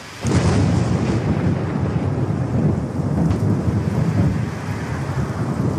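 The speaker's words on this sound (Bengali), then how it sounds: "বাজ পড়ল একটা।" A loud thunder crack during a storm with rain, a sharp onset followed by a long, heavy rumble that fills the whole stretch, close and overwhelming, with no voices.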